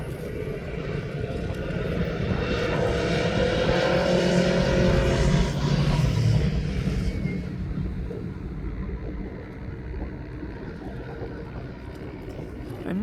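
A Jet2 airliner taxis toward runway 9 at East Midlands Airport, its engines giving a steady broadband roar that swells slightly midway and then eases to a lower, continuous whine, fairly close and alone.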